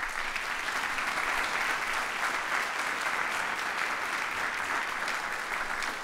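Audience applause at the MSU College of Music pavilion construction announcement, even sustained clapping from a moderate crowd lasting the whole stretch, moderately faint.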